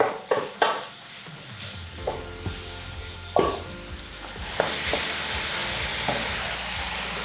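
Chopped bacon and onion sizzle steadily in a hot pan for stuffed peppers. The frying hiss swells louder toward the end, with a few sharp utensil clinks and stirring scrapes early on.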